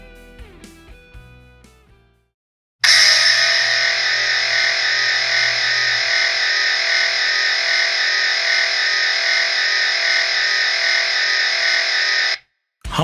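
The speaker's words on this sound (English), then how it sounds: "Moving on now to the additional hum effects." Hum effect number 1 from the Hardwired lightsaber sound font, a steady buzzing electronic drone with no beat that switches on abruptly, holds loud and constant for about ten seconds, then cuts off.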